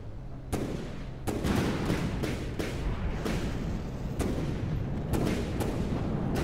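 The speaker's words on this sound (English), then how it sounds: "But now these cannons are starting to get involved." Cannons fire on a craft in the video game From the Depths, a run of sharp booming shots at irregular intervals, about a dozen over a few seconds, loud against a dense rumbling background with no talk over them.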